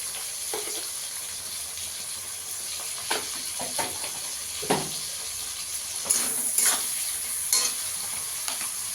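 Chopped tomatoes sizzle in hot oil in a pan for a Bengali cabbage-and-prawn dish, with a steady hiss broken by repeated scraping stirs of a spoon.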